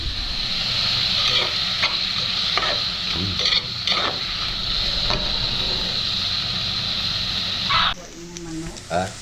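Shrimp sizzling and being stirred in lemon garlic butter in a hot pan, a steady frying hiss with scraping stirs, while a person talks over it.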